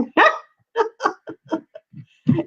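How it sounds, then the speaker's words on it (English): A small dog barks in a run of sharp, close barks and yips, about eight or nine irregular bursts with short gaps, loud and alone with no talk over it. "I love your little doggy going back and forth there"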